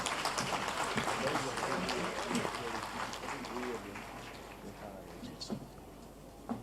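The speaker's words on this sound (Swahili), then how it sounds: "Mimi naona kama makofi hayatoshi mbona hivi." Audience applause at the THS 2024 opening ceremony: a broad, steady wash of clapping that gradually thins and fades over several seconds, with a voice talking over it.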